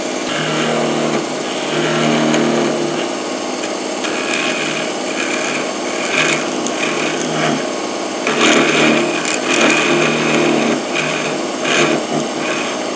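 Wood lathe spinning a wooden piece as the top is cut off, a steady whirring hum with rough scraping and rubbing bursts from the tool against the wood, close and continuous.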